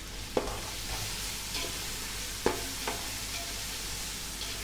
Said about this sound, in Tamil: இப்போது தக்காளி, பச்சை மிளகா, கொத்தமல்லி, புதினா இது 4ஐயும் ஆட் பண்ணி அதை பேஸ்ட் ஆக்குற வரைக்கும் அப்படியே கிளறி விட்டு வேக விடுங்க